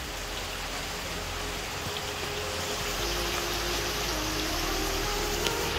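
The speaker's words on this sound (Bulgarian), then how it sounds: "Ставайки тук на входа, навътре чувам тътен, като водопад." Steady rumble of falling water echoing from deep inside a limestone cave, like a distant waterfall, a continuous broadband roar with no pauses and no voices.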